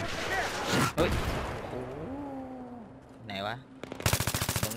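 Rapid automatic fire from an AK rifle in Battlefield 3, a loud burst of closely spaced shots at the end, following earlier gunfire and someone speaking.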